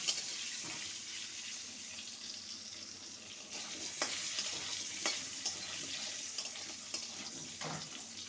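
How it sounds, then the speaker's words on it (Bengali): Potato pieces frying with turmeric and salt until golden, a soft continuous sizzle with occasional sharp clinks of a spatula against the pan, fairly quiet and without speech. "আলুটাকে একদম গোল্ডেন করে ভেজে নেব সোনালি করে"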